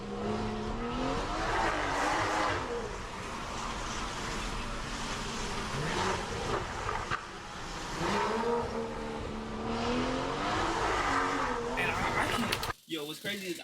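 A BMW 540i spins out on a wet road in the rain. Engine revving and tire noise carry on steadily with a few pitch swings as the car slides, and people talk loudly over it throughout.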